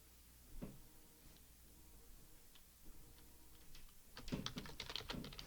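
Soft keystrokes on a computer keyboard in a hospital setting, starting as scattered taps and then speeding into a quick, close burst of typing with no talking.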